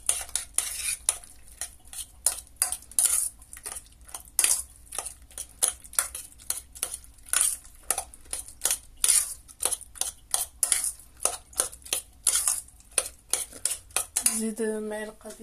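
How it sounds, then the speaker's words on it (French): Potato and cheese batter with halal sausage is mixed in a bowl, a long run of quick rhythmic clinks and scrapes of utensil against the bowl, close and busy, ending in a brief different rattle. "Et on mélange le tout."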